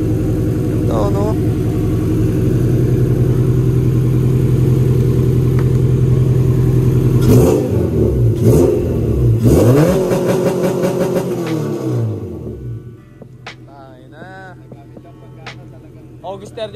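A Honda Civic engine revs hard and accelerates, loud and close, with sharp rising sweeps, then drops back to a low idle while people talk.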